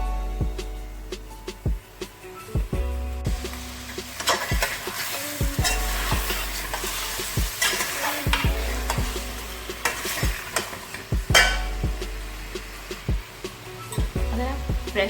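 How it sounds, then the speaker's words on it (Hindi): Chicken pieces stirred and fried in oil in a karahi, a steady close sizzle broken by repeated scraping stirs of a utensil against the pan, with no talking. "अच्छी तरह से चिकन को भूनना है।"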